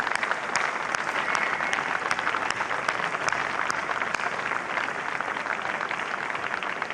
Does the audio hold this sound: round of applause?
yes